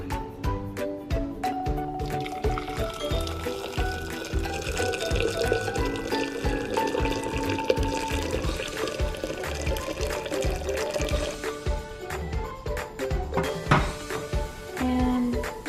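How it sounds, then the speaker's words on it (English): Water pours continuously into a container nearby, a steady gurgling fill with the pitch rising as it fills, lasting over ten seconds. "Okay, so now I'm going to add the water."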